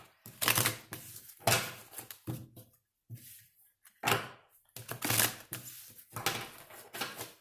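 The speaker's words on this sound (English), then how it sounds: "3 shuffles here for my Scorpios." Tarot and oracle cards shuffled by hand in several quick bursts of riffling and flicking, close and crisp, separated by short pauses of near silence.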